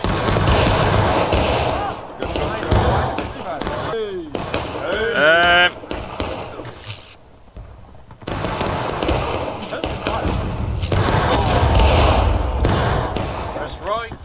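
Musket volley fire in the War of Rights video game: loud, dense crackling bursts of many simultaneous shots, a pause with shouted voices, then another long ragged fusillade.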